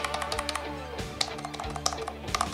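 Fingers type quickly on a Natec Goby NKL-1333 black membrane USB numeric keypad, producing close, soft, irregular key clicks in fast bursts over a faint steady background hum.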